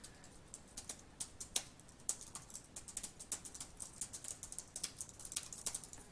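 Rapid, irregular clicking of keys on a flimsy tablet case keyboard for a Samsung Galaxy Tab A7, fairly loud and close, a continuous patter of taps with no talk.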